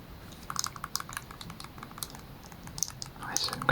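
Buttons on Nintendo Switch Joy-Con controllers are pressed one after another, making a quick, irregular run of small, crisp clicks heard close up and fairly quiet, with a soft whisper in places.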